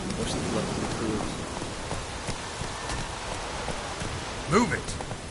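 Steady rain patters in The Witcher 3: Wild Hunt, a continuous hiss of drops with a horse's hooves and a brief voice or call breaking through near the end.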